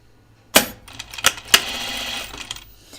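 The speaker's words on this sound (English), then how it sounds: "I'm just going to edge stitch this facing" A sewing machine edge-stitching the facing of a 1940s New England dress, starting with a few sharp mechanical clacks before a short, steady whirring run of stitching that fades out.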